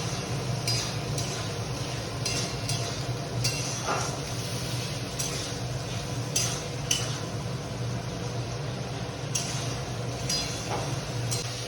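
Spice masala for a meat curry being stir-fried in a pan, a steady dense sizzle with repeated scraping clinks of a spoon against metal throughout, fairly close and even in level.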